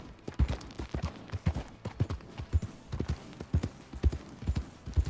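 Horse hooves clip-clop in Red Dead Redemption 2, a steady walking rhythm of close, distinct hoof falls repeating throughout.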